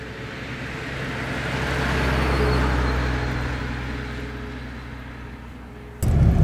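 A restored 1938 Lagonda LG6 Drop Head Coupé engine runs smoothly while driving, a steady low hum with road rumble that swells gently and ends in a sudden louder burst.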